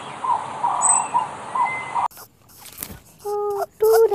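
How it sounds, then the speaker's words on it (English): A colorful parrot gives a few short, bright calls in the last part, after a stretch of other birdsong in the background; the calls are loud and close, with brief gaps between them. "colorful parrot"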